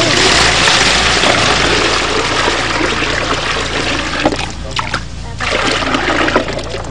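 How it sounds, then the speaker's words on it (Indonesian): Liquid mix of E4 starter, molasses and salt being stirred, a loud, continuous splashing and sloshing of water that never pauses, with faint voices underneath. "Diaduk sekarang rata."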